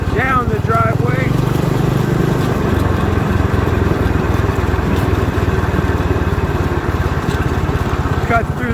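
A small Manco Dingo go-kart engine drones steadily and close as the kart rolls down a driveway, its buzzy note wavering slightly through the run.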